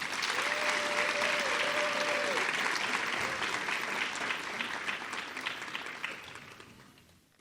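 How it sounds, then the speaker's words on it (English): Steady audience applause fills a hall at a sorority Jabberwock pageant, honoring the young escorts; loud and sustained for several seconds, then tapering off toward the end, with a brief tone heard early on. "Please acknowledge them with a round of applause."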